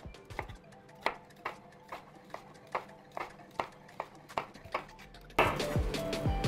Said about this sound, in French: Et on enchaîne avec l'oignon rouge. Et on l'émince finement.